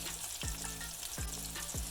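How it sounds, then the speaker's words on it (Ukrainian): Soft, steady sizzling of chopped meat cutlets frying in a pan over low heat, with a few faint clinks recurring at regular intervals. "смажимо на маленькому вогні"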